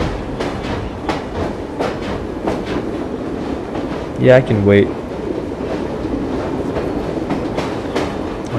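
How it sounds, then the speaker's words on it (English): A steam train rolls along the tracks in Assassin's Creed Syndicate, a steady rumbling clatter with a brief brighter tonal burst partway through, while someone talks briefly over it. "I feel like I'm gonna have to wait for the train to get there."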